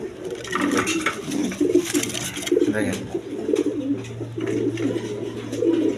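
Quality breeding pigeons in a loft cooing repeatedly in low, throaty rolling calls, close and overlapping, with someone talking intermittently over them.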